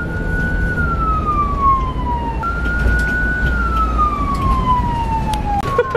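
Ambulance siren wailing loudly and steadily from close by, its tone sweeping slowly down and then jumping back up, over road rumble with no talking.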